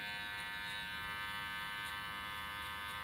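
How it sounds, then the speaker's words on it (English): An electric hair clipper buzzes steadily and close up as it cuts a boy's hair, its hum holding without a break from start to finish. "stretching the skin like this really helps the clipper cut a lot smoother"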